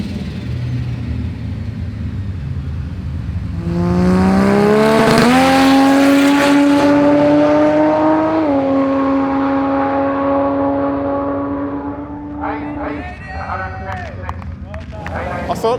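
George's Barra-engined Ford XF launches hard at a street drag race, a loud rising engine howl with climbing harmonics that holds through a gear change then fades into the distance, with crowd chatter around it.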